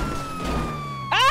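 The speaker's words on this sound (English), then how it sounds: "I'm just gonna follow the siren." Police siren in the FiveM GTA roleplay game, a steady electronic wail with a sweeping pitch that rises sharply near the end, loud and close over engine rumble.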